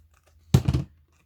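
Scissors cutting along the sides of a paper book page: one short, crisp snip-and-tear burst, close and alone in a quiet room.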